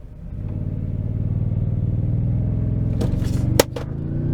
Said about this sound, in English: Whoa, launched harder, definitely an all-wheel drive there